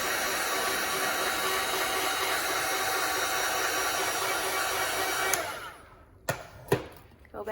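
A heat gun blows a steady, loud hiss of hot air while shrinking wrap around cuticle oil pens, running continuously for about five seconds before cutting off, followed by a few sharp handling clicks.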